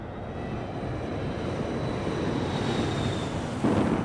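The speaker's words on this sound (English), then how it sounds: "As the plane descends" Cabin and engine drone of an American Airlines jetliner descending toward stormy weather, a steady broadband roar throughout with a slight rise in loudness near the end.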